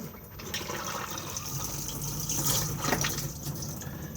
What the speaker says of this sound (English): push to flush on the blue button just here